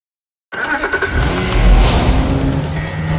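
A BMW 2 Series Gran Coupé bursts into sound after a half-second of silence, its engine revving and pulsing before settling into a loud, sustained acceleration roar, close and without talk.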